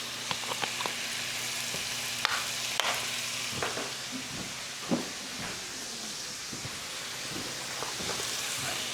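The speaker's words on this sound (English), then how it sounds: "Then we're gonna bring this to a simmer." Heavy whipping cream coming to a simmer in a pan for shrimp and grits, a quiet, steady bubbling hiss with scattered soft pops and occasional utensil clicks.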